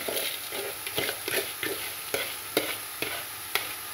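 A spoon stirs cake batter ingredients in a pan over heat, with soft scraping strokes at a steady rhythm and a faint sizzle beneath.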